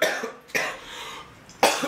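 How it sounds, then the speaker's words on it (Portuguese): Someone in a band interview coughs, with a sharp burst near the start, another around the middle and a third toward the end, close and fairly loud in a quiet room. "Eu tô segurando a tosse, tô um tempão."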